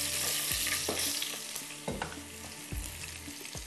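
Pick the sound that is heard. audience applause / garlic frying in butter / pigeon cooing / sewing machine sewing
garlic frying in butter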